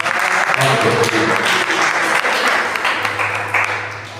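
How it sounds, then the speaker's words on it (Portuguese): A church congregation claps together in a loud, dense round that holds steady for several seconds before tapering off, with a sustained hum and voices faintly mixed in. "Uma linda salva de palmas para Jesus."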